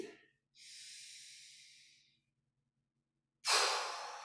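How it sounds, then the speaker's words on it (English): Slow, deliberate breaths during qigong practice: a long soft exhale, a pause of silence, then a sharper, louder inhale close to the listener. "Take a moment, just breathe."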